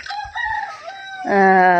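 A chicken clucks briefly, then a rooster lets out a loud, drawn-out crow close by.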